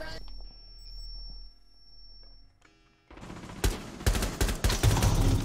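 Rapid gunfire from the video game Rainbow Six Siege bursts in after a quiet opening, loud, dense volleys filling the second half while players talk.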